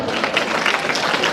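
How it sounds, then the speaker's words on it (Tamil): Students at a government school in Coimbatore clap together in a brief, lively burst of crowd applause, close and fairly loud with uneven surges. "நல்லா கைதட்டு"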